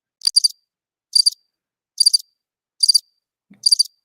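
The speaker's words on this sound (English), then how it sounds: "Crickets." Cricket chirps used as a sound effect repeat in five evenly spaced, high trilled bursts against dead silence, crisp and close.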